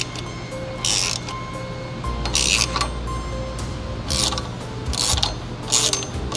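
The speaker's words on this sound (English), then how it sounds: "screw installer through the pulley and thread into the pump shaft until screw installer bottoms" Pulley installer screw ratcheting into a van's water pump shaft, a close metallic clicking with several bursts of brighter clinks spaced through the stretch.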